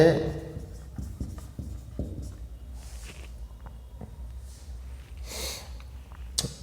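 A pen writes on paper in short scratchy strokes, close and moderately loud, with sniffing and breathing in between.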